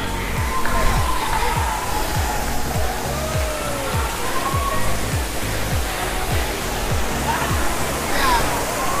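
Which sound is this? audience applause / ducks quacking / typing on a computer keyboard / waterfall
waterfall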